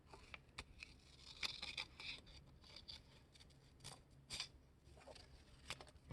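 Scissors snip through paper while shaping a half-heart for a handmade pop-up Valentine's card, giving short crisp cuts in irregular bursts, close and fairly quiet, with soft rustling between them.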